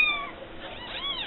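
Newborn kittens give several thin, high, wavering meows close by, overlapping one another in a short burst.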